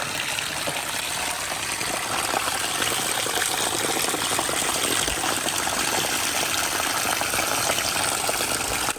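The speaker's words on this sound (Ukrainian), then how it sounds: "тут таке джерело тече." Spring water gushes steadily from a natural source by a Transcarpathian castle, a continuous broadband rushing and splashing that holds even and fairly close for the whole stretch, with no voices over it.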